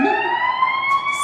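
Emergency vehicle siren wailing through a city street, a steady sustained tone with rising pitch sweeps, fairly loud and close throughout with no talk over it.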